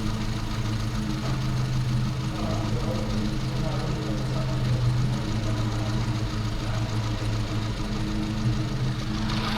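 A 998cc Mini engine idles steadily during tuning, a close, continuous low rumble with an even throb and no change in pace.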